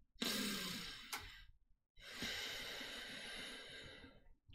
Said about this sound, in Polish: po wdechu wykonujemy delikatną pauzę, która może trwać ćwierć sekundy lub pół sekundy, jeżeli czujesz się z tym komfortowo, i dopiero następnie wykonujemy wydech